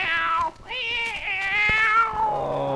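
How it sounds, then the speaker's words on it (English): A cartoon cat meows loudly and continuously, a drawn-out, wavering caterwaul in the hotel-room scene of the Daffy Duck's Duck Inn cartoon, with one brief dip near the start. "you gotta get that cat out of here. He's keeping me awake."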